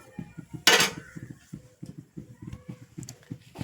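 A metal wok (kadai) set down on a kitchen stove gives one sharp clank, followed by softer metallic knocks and light clinks close by.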